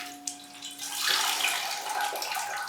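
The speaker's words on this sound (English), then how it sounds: "So we'll chuck a load of water on it and get it hydrated." Water poured from a container onto a plant, a steady broadband splashing and trickling that starts softly, swells after about a second and carries on close and fairly loud with no talking.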